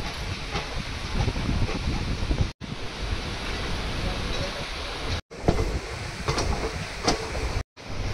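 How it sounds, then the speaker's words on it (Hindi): Superfast express train running on rails on the Dahanu Road to Vadodara route, heard from a window seat: a loud, continuous rushing rattle with wind buffeting, broken by a few abrupt brief cuts. "ये देखो गाइस हमारी ट्रेन कर्व लेती हुई"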